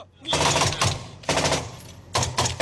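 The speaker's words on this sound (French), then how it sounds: "Nous sommes pris sous un feu intense." Heavy bursts of gunfire strike an armored vehicle from outside, arriving in three loud, close clusters of rapid impacts separated by brief lulls.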